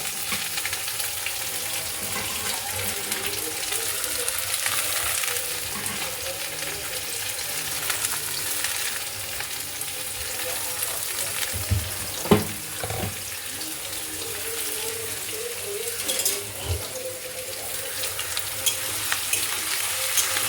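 Onion frying in a pan for kasuri methi chicken, a continuous hissing sizzle with a few sharp clacks of a utensil against the pan, steady and close throughout with no speech.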